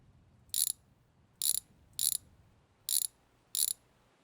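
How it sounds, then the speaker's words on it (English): Ratchet wrench clicking as it loosens bolts on a 2,225 HP Dodge Charger in a garage, five short crisp bursts of ratcheting spaced about half a second to a second apart, close and alone over quiet background. "Grab our wrench again. Let's get these guys."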